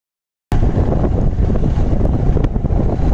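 Strong wind at Kaup Beach buffeting the microphone, a loud, continuous rumbling roar that cuts in abruptly after a moment of silence and stays steady throughout.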